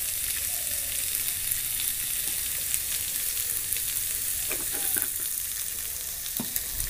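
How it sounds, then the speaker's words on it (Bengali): Potatoes sauté with spices in a pan, giving a loud continuous sizzle with scraping stir strokes from a spatula scattered throughout. "মশলার সঙ্গে আলুটা কষিয়ে নিচ্ছি"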